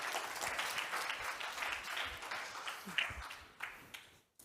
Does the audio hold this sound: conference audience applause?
yes